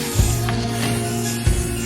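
Spray paint hissing steadily onto a DIY shadow box, a continuous close spray with two brief thumps from handling the can, and no talking.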